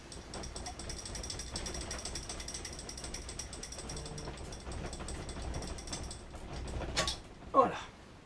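A ratchet wrench works on an exhaust fastener of a BMW R1200RT motorcycle while a Dominator exhaust is being fitted, giving a steady run of close mechanical clicking that ends in a brief louder clunk.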